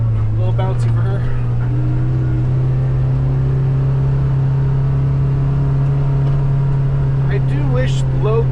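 A 2024 Kawasaki Ridge XR side-by-side driving in low gear, its engine giving a steady, loud droning hum with rumbling throughout, and a person talking over it.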